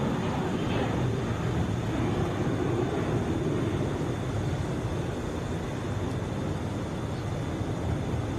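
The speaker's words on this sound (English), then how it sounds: "That is United 626 headed for O'Hare, Boeing 737." A United Boeing 737 airliner at Atlanta airport produces a constant engine rumble and jet roar, steady and fairly loud throughout, with no talk over it.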